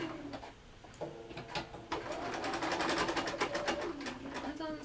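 A domestic sewing machine stitches fabric with a fast, steady mechanical whirr of rapid needle strokes, starting after a few short bursts and running continuously at close range.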